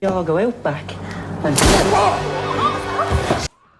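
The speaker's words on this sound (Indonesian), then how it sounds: "Dorian pun marah dan menembaknya." A sharp, loud gunshot bursts out amid raised voices and commotion, followed by a noisy, crashing scramble before it cuts off abruptly.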